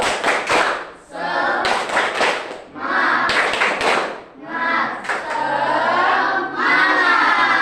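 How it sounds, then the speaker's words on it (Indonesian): Children in a primary school classroom perform a rhythmic spirit clap together, bursts of loud group clapping in patterned beats alternating with chanted voices, close and lively throughout. "Kita tepuk semangat dulu, ya."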